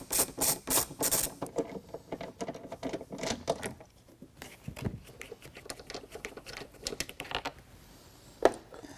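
A hand ratchet working tailgate hardware bolts loose on a 2022 Ford Bronco, with rapid clicking bursts in rhythmic runs, some pauses and a few metallic knocks, heard up close without talk.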